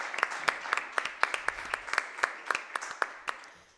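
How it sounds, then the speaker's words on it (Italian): A small group applauding at a school innovation lab session, sparse, separate claps in a loose rhythm, quiet and fairly distant, with few hands clapping. "Io farei un grande applauso perché siete stati veramente eccezionali."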